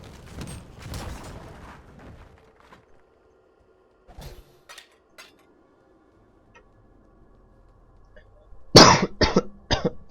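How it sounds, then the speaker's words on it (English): A person coughs in rough bursts at the start and again in a loud, close fit near the end. Between the coughs there are quiet stretches with faint clicks and a low background hum. "No, I keep coughing."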